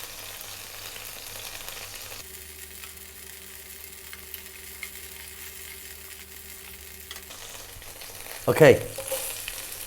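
Sliced onions and garlic frying in a pan over medium heat, a soft steady sizzle with a few louder clattering stirs near the end and a brief spoken word.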